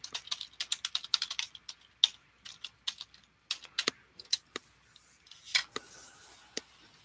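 Fingers tap quickly on a computer keyboard nearby, a quiet irregular patter of crisp clicks with short pauses and no voices.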